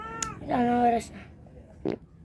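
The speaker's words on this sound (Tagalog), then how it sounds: "may pusa nga dito." A cat meows once with a clear drawn-out tonal cry, followed by a shorter faint mew, close by in a quiet room, with a person's voice briefly heard around it.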